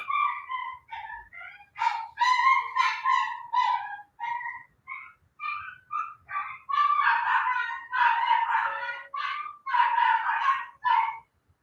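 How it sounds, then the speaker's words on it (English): Dogs bark in a quick run of sharp, yappy calls, fairly close and loud, coming in clustered bursts with short gaps between them, clear against an otherwise quiet background. "Sorry about the dogs."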